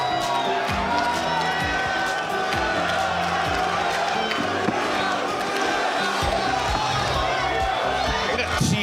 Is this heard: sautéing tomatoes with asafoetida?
no